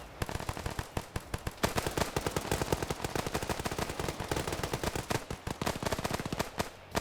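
Rapid automatic gunfire in a video game PvP match, a dense, relentless stream of sharp shots with only brief gaps, loud and close with no talking.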